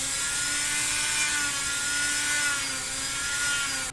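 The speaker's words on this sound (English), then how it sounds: "I'm gonna take the Dremel and cut and bevel it back" A Dremel rotary tool cuts a bevel into foam for a samurai helmet, giving a high, steady whine that holds level and close for several seconds before cutting off abruptly at the end.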